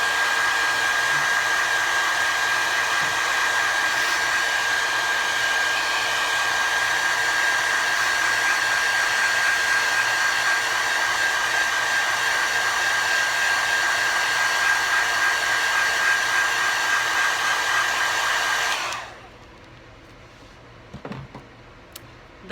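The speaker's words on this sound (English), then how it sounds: "the glue will tell you to blow dry it and to do it for 15 minutes" A hair dryer blowing on lace front wig glue runs as a loud, steady, close whoosh with a constant whine for about nineteen seconds, then cuts off, leaving quiet room sound with a couple of faint knocks.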